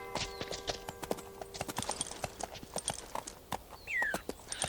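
Horse hooves clip-clopping at a riding pace in the Sound of Horses video game, a quick crisp rhythm of close, clear hoofbeats with a faint whinny-like sweep near the end.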